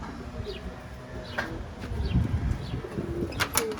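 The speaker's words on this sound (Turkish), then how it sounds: "Şimdi alçaktan uçacak iki tane kuş atacağım" Pigeons released to fly low in stormy, windy weather, with bursts of wing flapping and a few short calls over gusty wind rumble.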